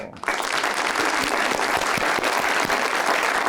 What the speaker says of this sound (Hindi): अब ये तो दोनों के लिए है ताली